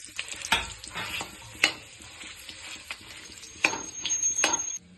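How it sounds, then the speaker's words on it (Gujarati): Chopped dates cooking in leftover ghee for date and dry fruit laddoos, a quiet sizzle under scattered stirring scrapes and a few sharp clinks of a spoon against the pan, close, no talk. "હવે જે ઘી વધ્યું હતું એમાં ખજૂરને આપણે નાખી દેવાનું છે"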